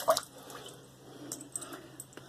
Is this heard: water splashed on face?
yes